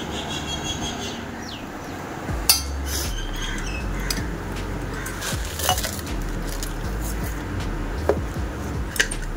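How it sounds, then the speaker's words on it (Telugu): Cooked dal and mashed mango being mixed in a bowl, heard as a soft, wet stirring that is quiet and close, broken by a few light clinks of a utensil against the bowl. "నెక్స్ట్ ఇంకా పప్పు కూడా తీసి మంచిగా అంతా పప్పు మామిడికాయ కలిసేటట్టు మిక్స్ చేసుకోవాలి"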